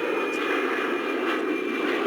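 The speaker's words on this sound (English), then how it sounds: "this is the sound of aeroplane." A jet airplane roars steadily overhead, a broad continuous whoosh with a thin high whine running through it.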